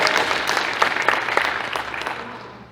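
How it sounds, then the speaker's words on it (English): Audience applause at a Terrifier 3 horror film convention panel, a dense patter of clapping that swells briefly and then tapers off, fairly close and alone with no talk over it. "You can clap again."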